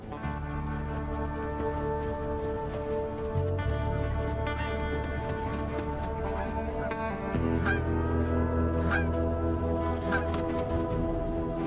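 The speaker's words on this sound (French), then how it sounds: "cette bernache du Canada" Canada goose honks ring out repeatedly over a steady, loud low drone, with sharp calls scattered through the clip and no talking.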